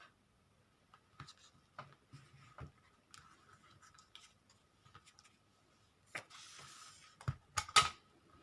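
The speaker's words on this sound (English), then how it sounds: "Just fold this in half." Paper being folded in half for a handmade junk journal: quiet, scattered taps and light rustles, then a brief crinkling swish and a few sharp creasing snaps near the end, close and alone.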